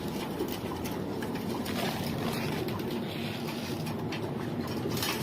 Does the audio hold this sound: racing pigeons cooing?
yes